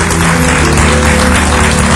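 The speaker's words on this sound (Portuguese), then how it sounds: "a vocês um grande aplauso" Studio audience applause on the Portuguese TV talk show A Tarde É Sua, a dense, steady wash of clapping that stays loud and close for the whole stretch, with tonal studio sound faintly underneath.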